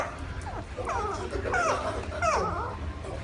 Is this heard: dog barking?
yes